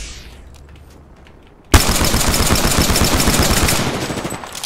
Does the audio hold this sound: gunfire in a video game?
yes